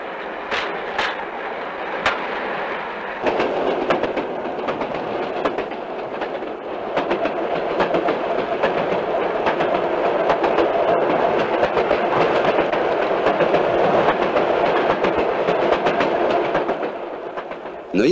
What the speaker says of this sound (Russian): платформа с краном уходит в рейс